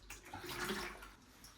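Murky water being scooped and sloshed out of a blocked toilet pan with a faulty pan connector, a close, continuous watery splashing and trickling with no talk.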